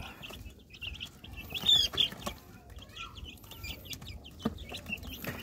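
Chicks peep in an evening coop, with a few newly added chicks among them. Soft, high chirps come in scattered bursts under faint background rustling.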